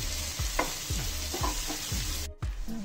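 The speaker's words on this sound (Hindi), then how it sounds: "ये मैंने टमाटर इसके अंदर मिक्स कर दिए हैं।" Chopped, seeded tomatoes are stirred into paneer tikka masala in a hot pan, with a steady sizzle under rhythmic scraping strokes of the spoon, then a brief dip as the stirring pauses.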